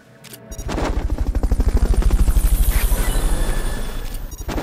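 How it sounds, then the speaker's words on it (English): Fulton recovery helicopter in Metal Gear Solid Peace Walker, a loud, close, rapid rotor thumping that swells in and holds steady for several seconds before fading, with no voices. "Fulton recovery helicopter is complete."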